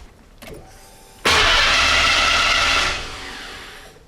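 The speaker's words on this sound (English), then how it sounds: "I'll go inside and turn the engine over" A 5.0L OHV Ford V8 in a Fox-body Ford cranks briefly, then catches and roars to life loudly before settling into a steady idle; no voices.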